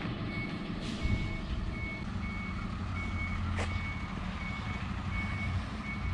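A big truck backs up nearby, its reversing alarm beeping in an even, regular pulse over a low idling engine rumble, with a brief hiss of air brakes partway through and no talk.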